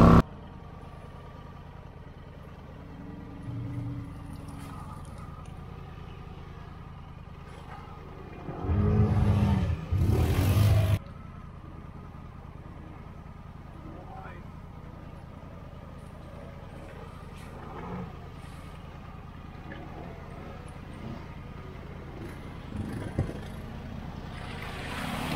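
A Jeep Rubicon drives through super thick Holopaw mud, a fairly quiet, distant low engine rumble with one short, loud surge of revving near the middle.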